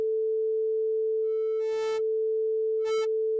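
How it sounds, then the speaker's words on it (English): A steady pure synth sine-wave tone holds throughout, with two brief buzzy bursts of harmonics as it moves toward square waves, one longer and one shorter. "there's sine waves moving into square waves"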